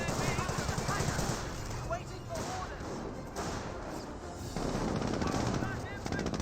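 A jeep-mounted machine gun in Company of Heroes fires bursts of rapid shots at infantry squads, set back in a busy battle mix, with gunfire clattering steadily under ongoing game noise.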